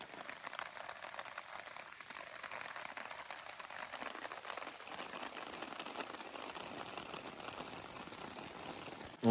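Rain falling on trees in the Uinta Mountains makes a dense, steady patter and hiss throughout, close and even in loudness, with no voices.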